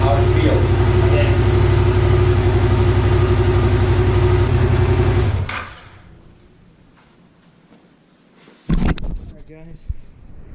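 A Yamaha FZ-07 motorcycle engine runs steadily and loud up close for several seconds, then cuts off abruptly into quiet, followed by a short knock and faint rustling.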